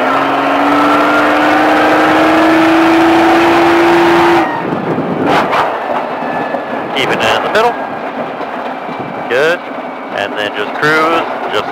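An exotic sports car engine on a track revs high and climbs, then cuts off abruptly, followed by lower engine rumble while a person talks over it.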